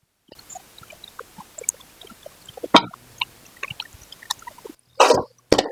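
Washed, turmeric-rinsed raw chicken pieces go into a pan for a pepper chicken dish. Scattered wet clicks and drips come first, then a couple of louder, close splashing clatters as the chicken drops in.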